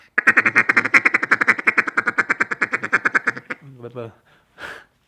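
A double reed duck call blows a machine gun feeder sequence, a fast run of about thirty loud, close quacking notes that slows and trails off into a few breathy, uneven notes at the end.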